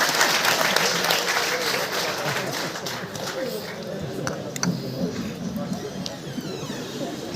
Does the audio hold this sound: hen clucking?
no